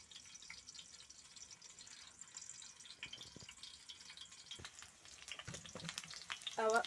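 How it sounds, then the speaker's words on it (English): Onions fry in a pan with a soft, steady sizzle and occasional clinks and stirring sounds, quiet and close, with no talking. "We are going to cover our onions to cook until it turns golden brown."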